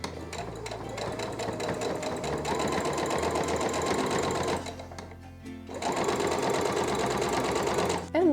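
A sewing machine top stitches a strap channel through light fabric, running in a steady, loud, rapid whir that pauses briefly midway and then resumes.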